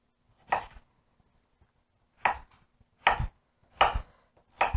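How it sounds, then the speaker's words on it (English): A knife chops food into cubes on a board for Finnish salmon soup: five sharp, close strikes spaced irregularly, each standing alone against near silence. "We're just going to cut this into cubes as well."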